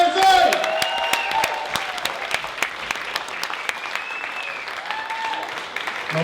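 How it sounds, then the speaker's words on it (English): Audience applause at a comedy show welcoming a performer, with scattered sharp claps, cheering and whoops over a lively crowd, and voices calling out throughout. "So Mckenzie, give a round of applause to Mckenzie!"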